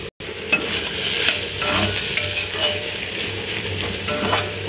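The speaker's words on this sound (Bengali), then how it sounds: "এই পাশে দেখো এখনো কষিয়ে নিচ্ছি আমি" Fish sautés in a pan with spices, giving a close, steady sizzle broken by repeated scraping strokes of a spatula as it is stirred and turned.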